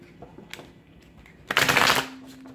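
Tarot cards shuffled by hand during a tarot reading: a few soft riffles and taps, then a loud, dense burst of crisp card flutter lasting about half a second, heard close and alone.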